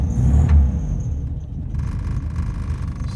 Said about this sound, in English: pretty loud engine